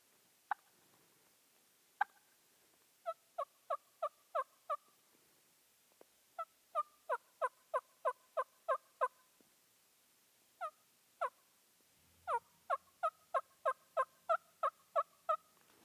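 Soft, clipped turkey hen tree-call yelps, imitated on a call, come in short bursts of four to eight notes, with pauses between groups; quiet and close, with no voices.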